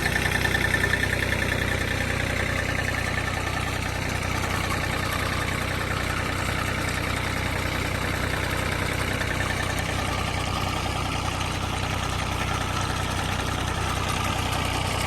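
An engine-driven pump draws water out of a rice field beside a deep pond after the harvest, giving a steady, unbroken mechanical drone that holds at an even level throughout with no talking.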